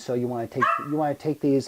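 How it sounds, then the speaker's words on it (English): A pet dog barks and yips in short bursts, several close, loud vocal calls in a row with a whiny tone, while a person speaks nearby. "That's my dog."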